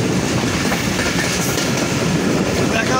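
The Banglabandha Express pulls out of Parbatipur Junction with a loud, steady roar and a rhythmic clickety-clack of wheels over rail joints, sounding close by the whole time.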